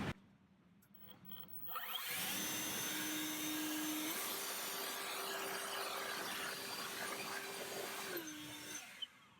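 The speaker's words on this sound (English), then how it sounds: "I'll just use a leaf blower, but I want to blow off any debris that could potentially fall into the cylinders" A leaf blower clears debris from the engine bay of a 1997 Toyota Land Cruiser with the 1FZ-FE engine during spark plug work: a steady, loud rushing whine that starts after a quiet moment and runs for about seven seconds before cutting off.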